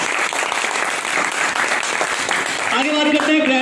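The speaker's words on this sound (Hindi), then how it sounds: "मैं चाहूँगा शतावरी के लिए एक बार ताली बजाएं आप लोग।" A live audience claps together in steady, dense applause that stays loud for a few seconds, with a voice beginning to speak over it at the very end.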